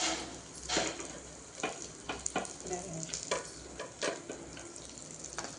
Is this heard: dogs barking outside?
no